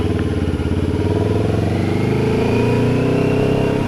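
A motorcycle engine running close and loud, its pitch rising steadily as it revs through a smooth gear change, with no talking.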